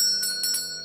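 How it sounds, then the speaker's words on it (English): A shrill door bell ringing on entry in a video game, a quick bright metallic jingle of a few strikes over a sustained tonal background. "a shrill bell that rings to announce my entrance"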